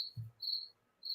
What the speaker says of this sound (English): The crickets are in full force, I hear.